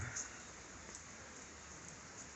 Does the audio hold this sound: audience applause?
no